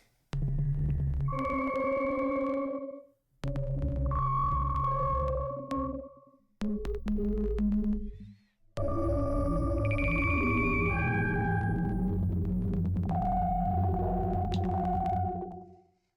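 A Waldorf Iridium Core synth plays a sequence of tonal notes and chords with soft attacks and fading releases, separated by brief gaps, ending in a longer sustained passage.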